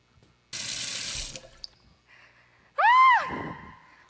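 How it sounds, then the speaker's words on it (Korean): Water bursts from a shower head in a loud, steady spray lasting under a second, followed by a short sharp gasp or shriek from a person. "샤워기 켜져서 나 옷 다 젖었어"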